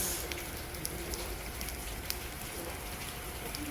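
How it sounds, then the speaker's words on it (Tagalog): Heavy rain falls steadily outside a village house in rural Korea, a dense, even hiss with scattered sharper drip ticks, fairly faint and continuous with no voices. "O, tingnan ninyo, grabe ang ulan dito."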